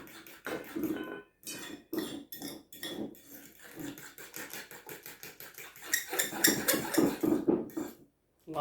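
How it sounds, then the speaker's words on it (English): A fork mixes banana bread batter in a bowl with rapid, uneven scraping and clinking strokes against the bowl, close and busy, growing denser and louder toward the end before a brief pause. "Give it a little bit of a blend with your fork."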